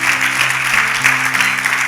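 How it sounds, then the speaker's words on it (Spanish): A church congregation applauds the Lord during a Spanish-language service, a steady wash of clapping with a faint sustained organ or keyboard tone beneath it. "Dele un aplauso al Señor"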